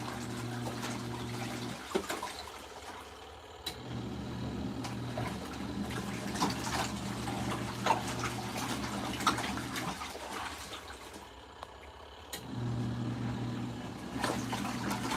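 An LG ThinQ MEGA Ultimate washer on a deep wash cycle sloshes and churns water in steady surges, with a low motor hum that pauses and returns, heard close and without talk.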